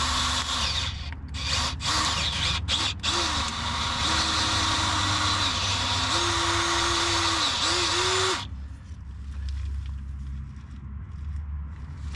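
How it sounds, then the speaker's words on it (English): Power drill boring out a threaded hole for an insert in the rear differential cover of a 2005 GMC Envoy, a loud steady whine with pitch shifts as the bit bites, running about eight seconds before stopping, no talk. "Alright, so we got that drilled out."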